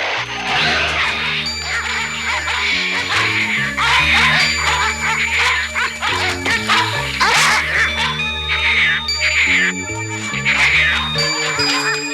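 Dogs barking, yipping and whimpering as they fight, loud and close with rapid, overlapping barks that keep up without pause.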